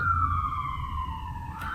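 An emergency vehicle siren wails outside, a steady loud tone gliding slowly downward, heard alone without talk.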